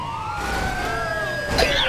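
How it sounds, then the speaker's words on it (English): A wailing ambulance siren in a video game sweeps up and down in pitch, fairly close, with a brief burst of clatter near the end. "Well, there's the ambulance."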